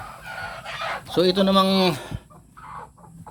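Native Basilan chickens on a small farm give a short, loud, drawn-out call in the middle, with softer clucks around it, while someone speaks briefly over them.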